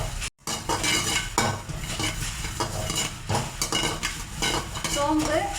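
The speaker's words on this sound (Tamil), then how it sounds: "சோம்பு கொஞ்சம் கலர் சேஞ்ச் ஆகிற வரைக்கும் நம்ம வறுக்க போடுங்க" Fennel seeds dry-roasting for fish curry masala powder, stirred steadily in a pan with a continuous scraping, rattling sizzle and a brief pause near the start.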